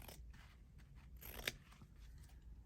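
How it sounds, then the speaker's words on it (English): Scissors snip through fabric during embroidery finishing work, a faint, quiet series of crisp cutting crunches with one sharper snip in the middle, no voices over it. "Just going to cut that off."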